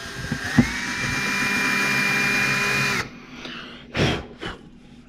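A power drill runs at a steady whine for about three seconds while a 1/4 inch bit enlarges a hole in a wall for a keyhole picture hanger, then stops, followed by a few short bursts and knocks close by.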